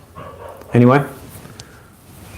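A dog barks once outside, a short, clear bark with a slight whine to it, heard under a man's speech and somewhat distant.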